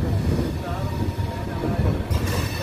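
Passenger train made up of LHB coaches running, a steady loud low rumble of wheels and carriages throughout, with a brief brighter hiss near the end and no talk.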